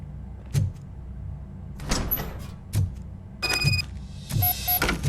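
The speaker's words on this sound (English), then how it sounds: "Now let me get that door open for you" A car door swinging open in the video game Robocop: Rogue City, heard as a few sharp mechanical clunks and latch clicks with a brief whirring rattle, fairly close and loud, with no talking.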